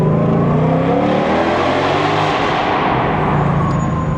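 A Ford Mustang GT500 engine revs hard inside an underpass, loud and close, its throaty roar rising steadily under acceleration and echoing off the walls, with no talking.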